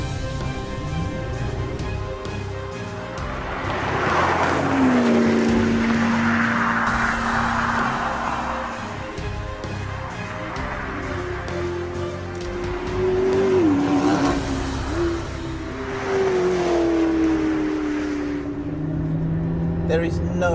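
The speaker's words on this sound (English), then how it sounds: "I think it's time to go and see what the P1 is like on a beautiful Welsh mountain road." A McLaren P1 supercar drives along a Welsh mountain road, its engine droning and rising and falling through gear changes, moderately loud and steady throughout.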